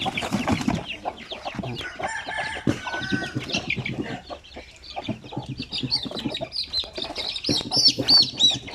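One-month-old Basilan chicks peep and chickens cluck in a busy, overlapping chorus close by, with high chick chirps rising toward the end; no one speaks.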